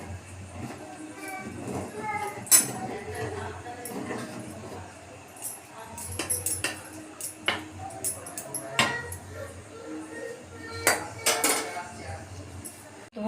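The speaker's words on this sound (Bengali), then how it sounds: "আমি আবারও একবার খিচুড়িটা ভালো করে একটু নেড়ে নেব।" Vegetable khichdi being stirred in a pot, a spoon scraping and knocking against the metal in irregular clinks and taps, some sharp and close, with quiet background noise between strokes.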